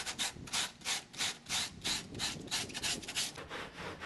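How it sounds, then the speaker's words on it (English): Steady rhythmic sanding of a fiberglass engine cowl rim, a dry abrasive rasp repeated in quick back-and-forth strokes, close and continuous with no talking. "Sanding the rim provides the general angle and contour of the final product"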